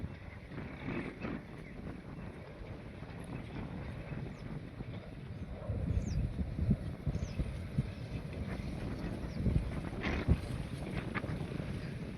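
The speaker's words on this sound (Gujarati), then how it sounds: "કુદરતી પવન હારો ગજબ મસ્ત આવે છે." Wind blows steadily across the microphone on a farm, a low rushing roar that grows stronger in gusts partway through.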